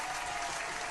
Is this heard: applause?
yes